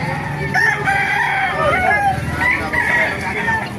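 Many chickens cluck and crow loudly together at a market in Baliuag, overlapping calls forming a busy, close-up chorus with no pause.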